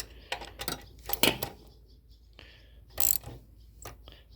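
Metal tool clicking and ratcheting as it is screwed into a lawn mower's exhaust port thread until it bottoms out, several short bursts of close metallic turning separated by quiet pauses.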